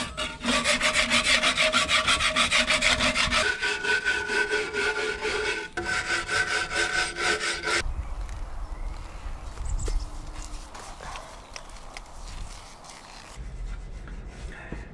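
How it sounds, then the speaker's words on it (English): A hand scraper works rhythmically along a steel narrowboat hull to clean it before blacking, making close, continuous rasping strokes that change pitch partway through and then grow rougher and quieter. "I'm going to scrape down here and tidy this up."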